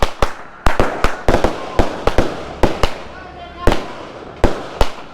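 Festive Hari Raya firecrackers and fireworks going off at night during a motorcycle ride, a rapid series of sharp loud bangs and crackles, some near and some farther off, with a voice talking in between.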